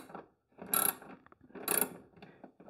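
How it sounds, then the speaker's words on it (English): A socket wrench with a 7mm socket ratchets screws out of a tightly fitted roll top desk, giving two close, loud bursts of rapid clicking separated by brief pauses. "put it into a 7mm socket, put that onto a socket wrench, and remarkably, it is going to work to get these out."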